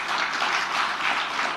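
Audience applause at a book launch speech in Indonesia, a short burst of steady, fairly close clapping with no talking over it.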